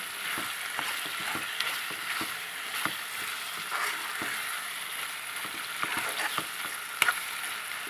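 Tomato pickle frying and simmering in oil, a steady dense sizzle with scattered crackles and small pops, close and fairly even throughout, with no talking.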